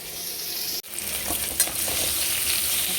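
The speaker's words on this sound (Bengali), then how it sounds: "আর একটা টমেটো ছোট কেটে নিয়েছি, এটা এবার দিয়ে দিলাম।" Diced tomato tossed into a pan of frying potatoes gives a steady, loud sizzle with stirring scrapes and one brief drop-out near the start, no voices.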